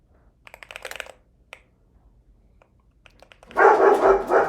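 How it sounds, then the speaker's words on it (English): Dogs bark indoors in a home office, first a short burst of yaps and a single yelp, then a louder, sustained flurry of barking close by after a quiet stretch. "These freaking dogs."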